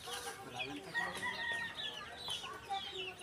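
Chickens cluck in a coop with a roof, several birds making soft, overlapping clucks and short calls, fairly faint and steady throughout with a quiet background.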